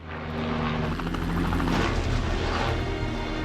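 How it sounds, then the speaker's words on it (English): Tourist sightseeing helicopters pass overhead near a volcano, a loud continuous rotor roar with rhythmic blade thumping that swells toward the middle and holds steady, no voices. "several more helicopters pass overhead."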